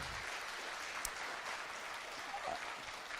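Crowd applause at a political talk concert in Daegu, a steady dense patter of clapping that holds at moderate level throughout with a faint voice or two mixed in.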